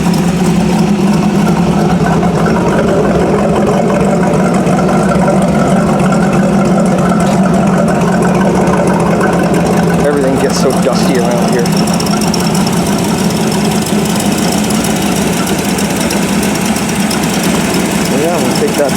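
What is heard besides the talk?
Ford Model A flathead engine idling, warming up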